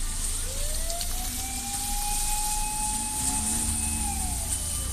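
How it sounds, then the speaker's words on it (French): An ambulance siren on a street in Japan sweeps loudly and steadily as the vehicle passes very close, its wailing tone rising and falling over constant traffic noise. "je crois que c'est la première fois que j'entends la sirène là d'aussi proche"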